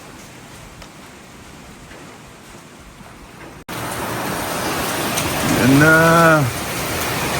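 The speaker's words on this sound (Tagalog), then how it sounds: "Grabe lakas ng hangin tsaka ulan." Strong wind and heavy rain roar steadily during a super typhoon at night, growing louder partway through, with a cat-like or human vocal cry rising over the noise and a brief spoken word.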